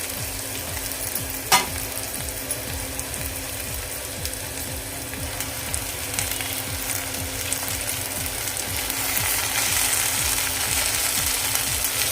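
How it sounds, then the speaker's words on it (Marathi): Steady crackling sizzle of kang kong (water spinach) frying with garlic in hot oil tempering, continuous and close, with a faint scraping clatter early on. "भाजी यामध्ये घालून घेऊया फोडणीमध्ये"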